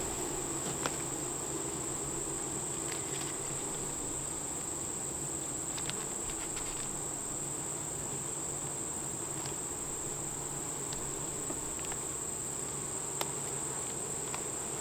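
Honey bees buzz steadily around an open hive during an inspection, a faint, continuous drone with a few soft clicks and bumps, no voices.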